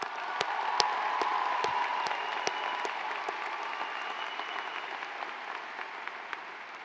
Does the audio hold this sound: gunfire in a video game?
no